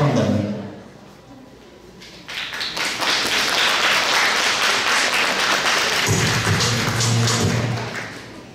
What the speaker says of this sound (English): Ladies and gentlemen, with a round of applause, please welcome them.